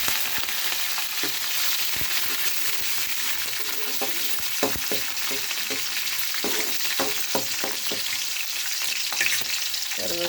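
Green chillies frying in hot oil in a pan with peanuts, cumin and dried red chillies, giving a steady, dense sizzle with scattered stirring scrapes and pops, close and loud throughout.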